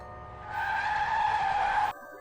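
A car brakes hard on a road, its tires letting out a single loud, sustained squeal lasting under two seconds before cutting off abruptly.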